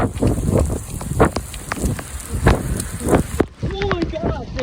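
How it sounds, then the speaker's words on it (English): Heavy rain pouring outdoors on a rainy flooding day, a dense continuous hiss with wind buffeting the microphone and voices talking excitedly over it. "It's literally raining out."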